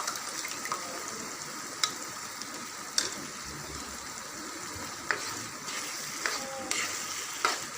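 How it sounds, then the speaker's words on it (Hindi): Chicken with capsicum and potato cooking with tomato and yogurt in a pan, giving a steady moderate sizzle with a few sharp crackles and pops scattered through, no talking. "2 मिनट तक हम इसको फ्राई करेंगे।"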